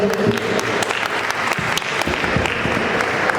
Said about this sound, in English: one round of applause, everybody